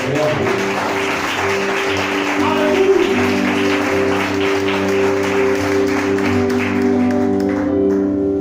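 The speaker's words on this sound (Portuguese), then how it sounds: "Só quem desocupou as mãos," A church congregation applauds loudly in sustained, dense clapping that runs throughout, with steady background music underneath.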